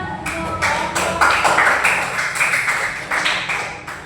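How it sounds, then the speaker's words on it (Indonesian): Classroom applause for a student group, a steady patter of many hands clapping together in a room, moderately loud and sustained for a few seconds without speech. "tepuk tangan untuk kelompok"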